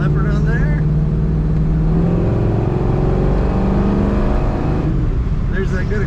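A 1968 Chevrolet Camaro engine pulls hard under acceleration, a steady loud drone from inside the cabin that rises slightly in pitch, with brief voices talking near the start and end.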